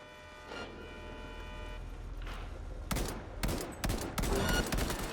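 Gunfire bursts from the video game Cyberpunk 2077, rapid loud volleys starting about midway over a steady humming game background with faint tones, heard alone without talk.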